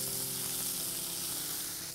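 Chopped tomatoes sizzle in a pan over sautéed garlic, a steady, dense frying hiss that holds for the whole stretch and eases slightly at the end, with no voices.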